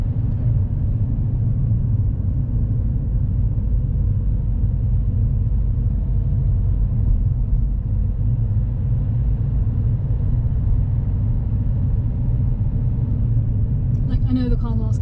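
A learner's car drives in second gear through city streets, its engine holding a steady, loud low rumble for the whole stretch as if it wants a higher gear, with a brief voice near the end.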